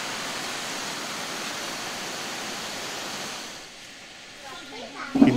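Steady broadband rush of falling water fills the first few seconds, then eases and softens before a brief louder knock near the end.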